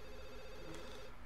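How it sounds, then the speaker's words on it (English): Telephone ringing in The Sims 3 video game, a short electronic trill of ringing tones heard alone, moderately loud and close. "Answer the phone."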